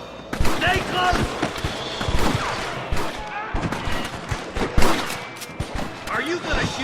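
Gunfire in Red Dead Redemption during a shootout with cattle rustlers: dense bursts of close and distant gunshots in quick, irregular volleys, mixed with shouting voices and game sounds.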